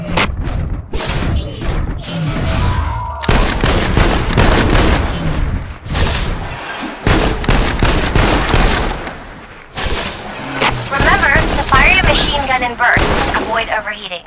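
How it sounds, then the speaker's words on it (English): Loud bursts of machine gun fire from a mech's right-hand weapon at a target range in Front Mission Evolved, rapid rattling volleys broken by brief pauses, with booming impacts and mechanical whirs between bursts. "The machine gun is equipped in your right hand."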